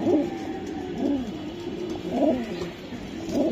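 Racing pigeons coo close by in a loft, four low throaty coo phrases spaced about a second apart over a quiet background.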